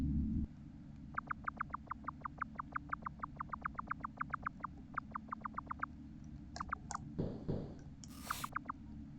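Neon frogs in a video game croaking in a steady rapid series of short chirps over a low droning background, followed by a few other scattered game sounds.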